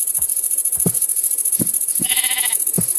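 A sheep in Minecraft bleats once, a short wavering harmonic cry heard close and alone, set against a constant high-pitched hiss and a few soft footstep-like thuds.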